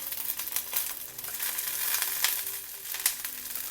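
Sliced yellow onion and halved shallots frying in oil in a clay pot, giving a steady close crackling sizzle with occasional stirring scrapes.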